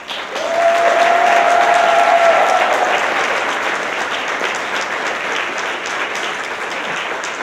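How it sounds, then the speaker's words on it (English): Loud, dense applause from a large crowd at a community service awards ceremony that swells quickly and continues steadily, a brief whistle or cheer near the start. "how about a round of applause"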